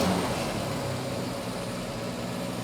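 A 1973 Triumph TR6 engine runs steadily during carburetor tuning, a loud, even, low rumble heard close with no voices over it.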